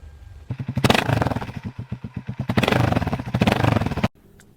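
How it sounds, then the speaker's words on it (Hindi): A Royal Enfield Scrambler 450 motorcycle revs up close, its exhaust rising and falling in throaty bursts with a pulsing, thudding low end over about four seconds, then cutting off abruptly. "रॉयल एनफील्ड स्क्रैम्बलर 450 की एग्जॉस्ट नोट रिफाइंड है, लेकिन उसमें वो स्क्रैम्बलर वाली स्पोर्टी ग्रंट भी सुनाई देती है"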